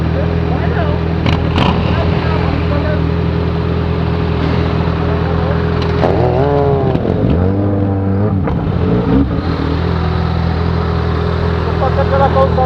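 A Yamaha XJ6 motorcycle engine runs steadily along a seafront road, with a revving rise and fall midway, loud and close throughout while someone talks over it.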